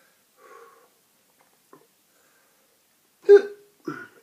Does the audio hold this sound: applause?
no